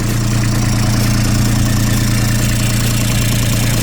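Diesel engine of a used Kubota B2420 tractor idling up close, a steady, loud low-pitched drone with a faint knocking rhythm and no pauses.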